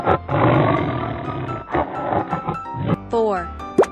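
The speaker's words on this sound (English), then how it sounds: "Tiger." A loud cartoon tiger roar with a rough, growling tone opens the clip, followed by shorter grunting bursts and a quick rising squeal near the end.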